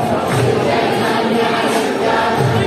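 Dense crowd packed inside the ISKCON temple in Vrindavan, a continuous broadband murmur of many voices and shuffling at steady loudness throughout, with no single voice standing out.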